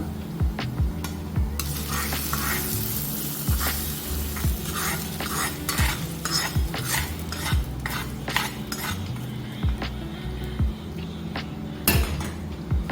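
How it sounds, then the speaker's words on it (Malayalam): A tempering is stirred into beetroot pachadi for a sadya, bringing rhythmic spoon scrapes and knocks against the pot over a steady sizzle, close and repeated throughout. "ഇതെല്ലാം നമ്മൾ ചേർത്ത് മിക്സ് ചെയ്ത് ഇടുക"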